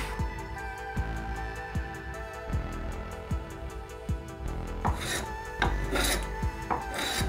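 A metal file rasps across brass fitted to an ebony joiner's mallet in steady, repeated strokes, each one a clear scrape, with a few brighter metallic strokes near the end.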